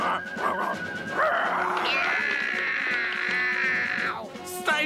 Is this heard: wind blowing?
no